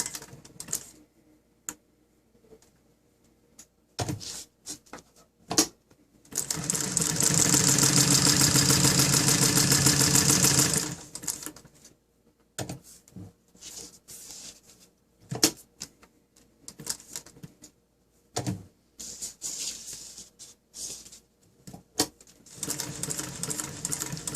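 A Chandler 406 RB1 sewing machine driven by a servo motor with belt reduction runs flat out for about five seconds, a loud dense whirring stitching hum, framed by scattered clicks and handling knocks.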